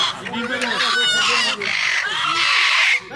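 Chickens cluck and squawk close by at a religious gathering, a busy run of agitated bird calls with a brief pause partway through.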